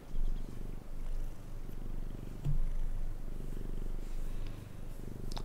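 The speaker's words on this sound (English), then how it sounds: "And you're getting hungry, are you? Your meows are getting very impatient." Domestic cat purring steadily up close, a continuous low rumble through the whole stretch, with no clear meow standing out; faint game sounds from World of Tanks sit far in the background.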